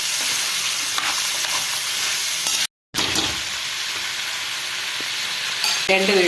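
A masala dosa potato filling with carrot and coriander is stirred in a hot pan, with a steady sizzling fry and scraping spoon strokes throughout, broken by a brief cut of silence partway through.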